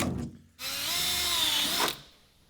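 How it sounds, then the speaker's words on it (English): Power drill boring a hole through a Dodge Demon 170 car body panel, one sustained high whine for just over a second that starts and stops abruptly, close and loud with no talk. "what we're gonna do is drill the high confidence holes first"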